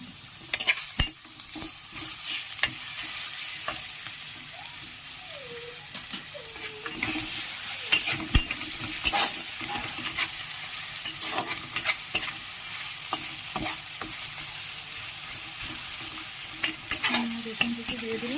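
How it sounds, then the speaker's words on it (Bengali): Onions fried until reddish and freshly chopped garlic hiss in hot oil in a village kitchen making fish curry, a steady close sizzle punctuated by scraping stirs and occasional clinks. "আর এখানে দিয়ে দিলাম আমি রসুন কুচি।"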